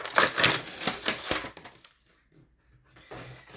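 A small box of alcohol ink markers being opened, with a rapid run of crisp clicks and crackles of packaging, then quieter scattered handling noises after a pause.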